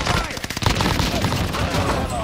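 An MP40 submachine gun fires in a chaotic video game battle, with loud bursts of rapid gunfire crackling over a dense background of explosions and voices.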